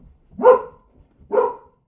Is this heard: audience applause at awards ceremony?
no